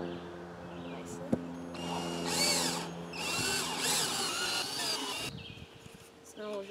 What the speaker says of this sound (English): I'm going to take the clamps off and drive some screws in